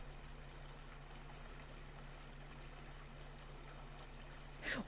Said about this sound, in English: I could definitely hear that faint trickling nearby